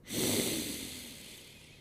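A single slow, close inhale through the nose during alternate nostril breathing, an airy hiss that swells quickly and then thins out gradually over about two seconds, heard alone.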